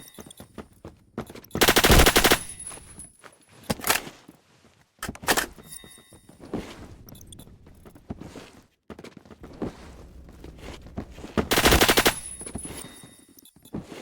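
Rapid automatic gunfire in Roblox Phantom Forces rattles out in loud bursts separated by quieter stretches of game ambience, footsteps and clunks.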